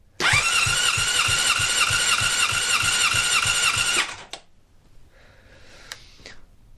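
Honda CBR600RR engine cranking over at full throttle during a compression test, the starter whining loud and rhythmic with even chugging pulses for about four seconds, then stopping, followed by faint clicks.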